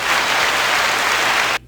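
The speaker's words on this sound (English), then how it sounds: "Hit him with the hand clap." A podcast hand clap sound effect plays as a dense, loud burst of clapping like applause, lasting under two seconds and cutting off abruptly.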